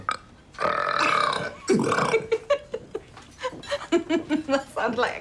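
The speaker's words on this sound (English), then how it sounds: "We like burping, don't we?" Several loud, throaty burps in a row, a long drawn-out one followed by shorter gulping belches, close up and clear with a little chuckling mixed in.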